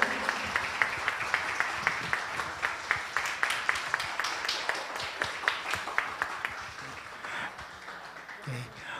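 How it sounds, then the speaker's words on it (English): Applause from the audience at a student music recital, with steady individual claps standing out over a general patter at moderate distance, gradually tapering off toward the end. "One more round of applause for them"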